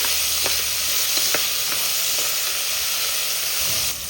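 A steady, close sizzle of chopped tomatoes frying in a pan, with a few light clicks of stirring.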